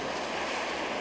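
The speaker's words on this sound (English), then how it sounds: "you see the ocean water come right in underneath" Ocean water surges in beneath a grassy clifftop through a hole in the ground, a steady broadband wash of surf mixed with wind noise and no talking.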